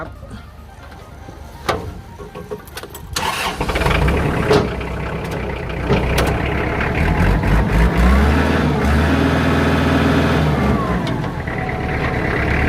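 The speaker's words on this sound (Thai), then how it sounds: "เดี๋ยวเราลองมาสตาร์ทเครื่องยนต์กันดู" A used Kubota L4508 tractor's diesel engine cranks and catches, then settles into a steady, loud idle with a rough, throbbing rumble.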